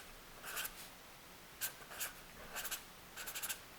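Pen scratching letters by hand on paper, several short quiet bursts of strokes separated by brief pauses, close and faint, with no talking.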